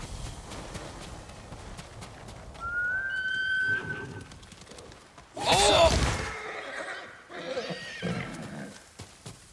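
A horse in the video game Ghost of Tsushima gives a loud, clear whinny, with faint hoof clops and other game sounds around it. A sharp burst follows, and a player's voice exclaims briefly.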